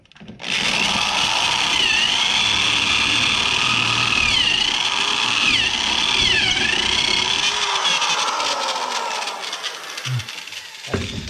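A Harbor Freight Warrior step bit grinds through a hard steel tractor PTO shaft, a loud sustained drilling whine with wavering pitch that runs for about nine seconds before winding down and stopping.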